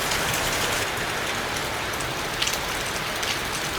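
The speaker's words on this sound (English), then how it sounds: "But still raining." Steady rain pouring down at a chicken farm, an even, dense hiss of drops with a few slightly louder patters on nearby surfaces, no voices.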